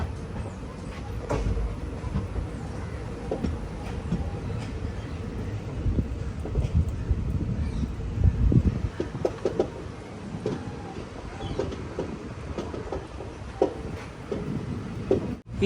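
The Guruvayur–Thrissur Express rumbles steadily through a Kerala railway station, its continuous low roar broken by intermittent clacks and rattles of the wheels on the track.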